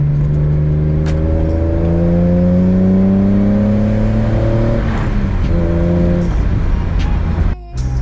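A BMW E46 M3 with a six-speed manual gearbox revs loud and close from inside the car, engine pitch climbing steadily, dipping at a gear shift, then climbing again before another brief drop.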